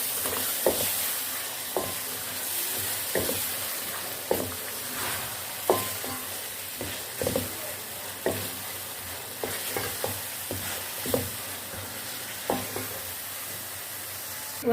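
Chicken pieces fry in a pan before tomatoes go in, giving a loud steady sizzle broken by regular sharp clacks and scrapes of a spatula stirring the meat, close by and with no talking.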